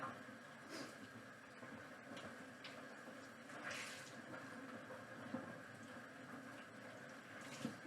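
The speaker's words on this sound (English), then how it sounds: "And I'm going to rinse this out" Faint running hot water splashes steadily while dyed fabric is swished and rinsed under it, with occasional soft knocks.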